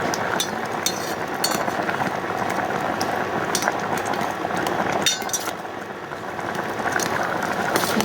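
Raw mangoes boil in a pot of water with a steady bubbling churn, with a few faint clinks on top throughout.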